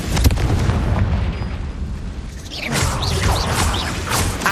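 A Confringo blasting spell in Hogwarts Legacy erupts in loud booming explosions: a sharp burst at the start, then rumbling blasts and debris under swirling game effects.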